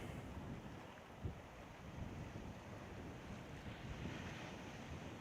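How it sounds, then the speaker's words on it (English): Wind blows at the shore in Kona, Hawaii, a steady low rushing roar buffeting the microphone, with surf-like rumble blended underneath. "the wind is kind of bouncing the camera quite a bit"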